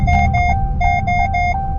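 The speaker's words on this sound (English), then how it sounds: "Don't mind that beeping." Active braking collision warning in a car sounding as a series of sharp electronic beeps in quick bursts, loud and close over low engine and road rumble inside the vehicle.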